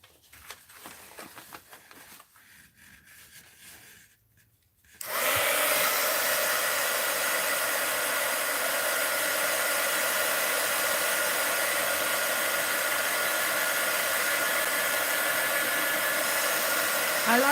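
Heat gun drying a mixed-media art journal page switches on after a few quiet seconds of faint handling noise, then blows a loud, steady, close rushing roar without pause.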